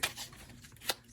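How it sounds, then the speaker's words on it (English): A deck of archetype cards is shuffled by hand in short, soft riffling bursts, a few quick crisp flutters separated by quiet gaps. "what I'm going to do is shuffle an Archetypes card"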